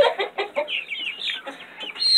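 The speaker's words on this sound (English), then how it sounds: "It's an Americana rooster." An Americana rooster, a white bird, clucks in a quick run of short, close calls, then gives a longer rising squawk at the end. No talking.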